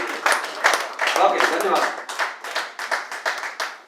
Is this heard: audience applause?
yes